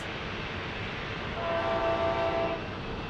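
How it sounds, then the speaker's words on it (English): A Coaster commuter train passing on a morning commute in San Diego, its horn sounding as a sustained tonal blast for about a second over a steady, distant rail rumble. "You can hear the horn in the background."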